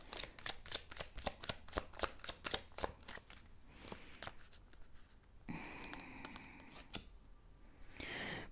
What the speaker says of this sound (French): je vous tire une dernière carte, groupe